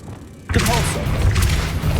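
A Depulso spell cast in Hogwarts Legacy lands as a sudden close thud and boom with a crackling magical whoosh that rings on briefly, following a short stretch of quiet.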